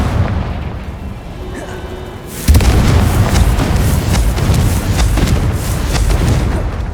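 A Confringo blasting spell explodes in the video game Hogwarts Legacy, a sudden loud boom hitting after a quieter stretch, followed by a rumbling, crackling tail of debris and ambient game sound.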